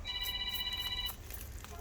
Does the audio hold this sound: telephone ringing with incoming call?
yes